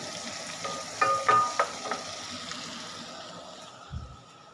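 Beef browns in a frying pan, a steady close sizzle with bursts of spattering crackle and clinking stirring sounds.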